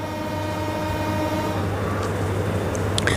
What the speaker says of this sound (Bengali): এখান থেকে হুইসেল দিয়ে চলতে থাকি আমাদের নীলসাগর এক্সপ্রেস